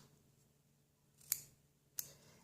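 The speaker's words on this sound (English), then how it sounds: "But then I took this, and I cut it apart." Two crisp, close snips of scissors cutting apart a label sheet for coloring pencils, spaced well apart against a quiet background.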